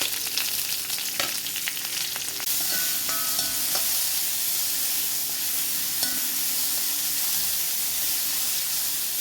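Chopped onions and green chillies, with curry leaves, fry in a pan for a Kerala-style okra milk curry, giving a steady loud sizzle with occasional stirring scrapes and a few brief clinks throughout.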